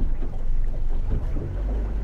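A small boat's outboard motor is cranked and sputters into a rough, low rumbling run close by, with wind buffeting the microphone outdoors on the water.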